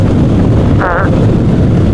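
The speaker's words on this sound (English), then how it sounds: "it is a little windy out today" Loud wind roars and buffets a microphone outdoors beside a Harley-Davidson Pan America Special motorcycle, a constant rumbling rush with a brief higher-pitched tone in the middle.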